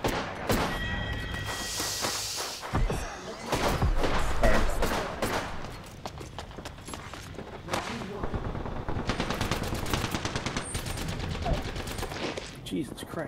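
Rapid automatic gunfire from a battle royale video game rattles in repeated bursts and volleys, loud and close throughout, with occasional player voices mixed in.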